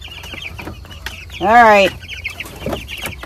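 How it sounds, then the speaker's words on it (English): Chickens in a greenhouse pen give one loud, harmonic cluck-squawk near the microphone, framed by quieter rustling and a single brief spoken word. "they've gone from cute little chickens to ugly chickens now"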